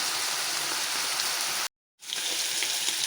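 Pieces of meat frying in a pan for a pilaf-style dish give off a loud, steady broadband sizzle. The sound cuts out briefly near the middle, then resumes. No one speaks.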